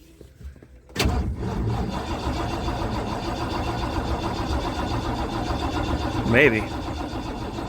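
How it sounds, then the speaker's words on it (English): 1979 Ford Bronco engine cranking over and trying to start, a sudden loud onset followed by a steady churning drone that stays for several seconds, with a brief voice partway through. "Well, for shits and giggles, let's see if it'll start."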